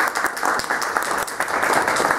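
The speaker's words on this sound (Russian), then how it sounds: "позвольте вас одарить теплыми аплодисментами" An audience breaks into warm applause at a Russian-language meeting with Kolya Vasin, a dense, steady wash of many hands clapping close by for the whole stretch.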